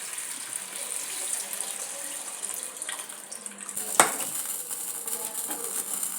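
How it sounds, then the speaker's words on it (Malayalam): Tamarind water is poured into a curry pan in a home kitchen, a steady soft splashing stream running for several seconds, with one brief sharper clink midway and no talking. "പുളിവെള്ളം ഒഴിക്കാം."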